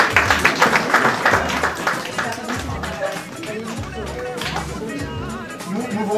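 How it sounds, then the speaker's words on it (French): Clapping at a French lounge restaurant event, the Massala Lounge Fourchette d'or 2018 ceremony, fairly loud and steady for about six seconds with voices and crowd murmur mixed in underneath. "on va t'applaudir"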